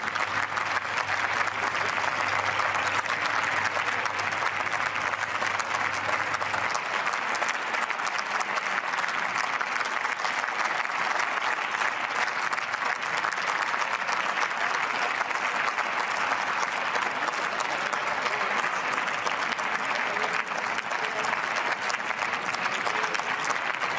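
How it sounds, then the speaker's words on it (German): Sustained applause fills the German Bundestag after a farewell speech, with clapping from several parliamentary groups, dense and steady throughout at moderate loudness with no voices on top. "Viel Applaus hier, teilweise auch aus anderen Fraktionen"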